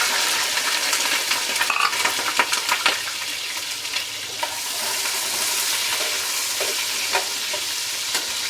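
Chopped medium-sized onions sizzle in about 200 grams of hot oil in a karahi, a steady bright frying hiss with occasional stirring clinks and scrapes, close and continuous.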